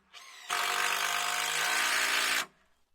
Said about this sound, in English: Now I can just get this screwed in place.